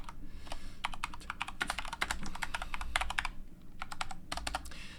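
Rapid bursts of computer keyboard typing, close and clear, coming in uneven clusters of keystrokes with brief pauses between them and no voice.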